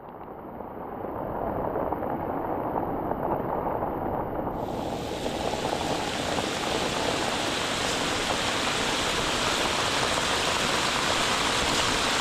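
Steady, loud downpour of heavy rain, a continuous dense rush that grows fuller partway through.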